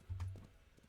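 A horse cantering in a horse-riding video game, a couple of soft, low hoof thuds close together near the start, then quieter fading steps, faint overall.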